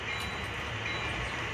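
A Walthers Mainline GP9 model locomotive runs along model railroad track, a faint steady motor whir and rolling hum over a short stretch, with no voices.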